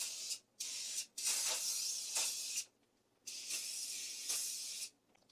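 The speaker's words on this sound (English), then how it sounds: "Each I'm going to spray with olive oil." Close, bright hissing sprays of olive oil onto cabbage in several bursts, a few short and a few long, separated by brief silent pauses.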